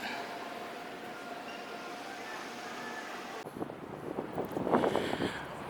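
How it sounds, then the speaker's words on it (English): Gusty wind buffets a nearby microphone, steady at first and then rougher and louder toward the end, with no one speaking. "it's very windy"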